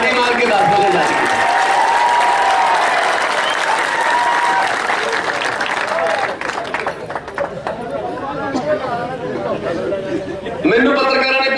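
Crowd at a political rally in a Punjab village breaking into loud, sustained applause and cheering, dense clapping filling the space and tapering into chatter near the end.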